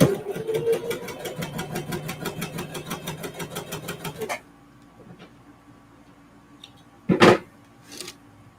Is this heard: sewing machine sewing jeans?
yes